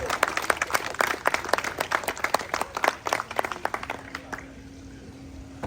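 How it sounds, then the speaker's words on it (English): Guests at a cricket banquet dinner clap for the evening's hosts in a loose, moderately loud burst of individual claps that thins out toward the end, where a faint steady hum remains. "give them a big round of applause."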